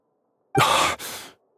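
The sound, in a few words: character's weak breathing in Genshin Impact video game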